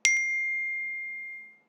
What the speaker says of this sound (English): Once the oven is hot enough, it emits an audio signal to indicate that the oven is ready